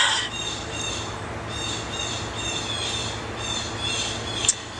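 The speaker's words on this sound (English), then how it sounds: "It sounds like I'm in a zoo. Like, those birds are getting on my nerves." Several birds call repeatedly in a loud, zoo-like chorus, their high bursts recurring over steady background noise throughout, with one sharper call near the end.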